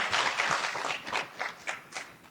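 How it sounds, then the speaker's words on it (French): A small audience claps briefly at a talk about the ports of Kribi and Douala, the applause loud at first and then thinning into a few scattered claps. "Cela mérite des applaudissements aujourd'hui"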